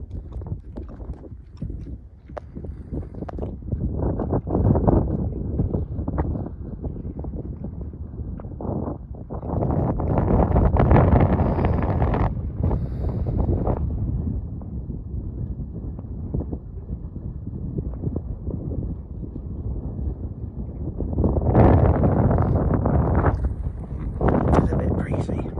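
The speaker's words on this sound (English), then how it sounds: "It is a bit breezy, but it's not too bad actually." Gusty wind buffets the microphone on a breezy hilltop in the Weaver Hills, a heavy low rumble surging and easing in waves throughout, loud and close, with someone talking intermittently underneath.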